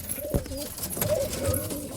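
A female racing pigeon cooing close by, with soft low throaty coos over a noisy background.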